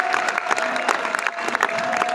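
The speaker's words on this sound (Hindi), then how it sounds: "यार तालियां मारो यार" Audience applause in a seminar hall after a talk on direct selling statistics, a dense patter of clapping held steady for a couple of seconds with crowd murmur underneath.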